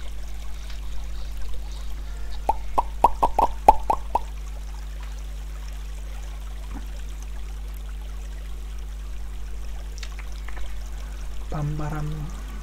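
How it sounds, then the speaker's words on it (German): Waterfall water in the game Minetest: a quick cluster of bright plopping splashes, then long quiet stretches over a steady low hum, with a couple of isolated plops and a short watery burst near the end. "Ab und zu verschwindet dieses Wassergeräusch."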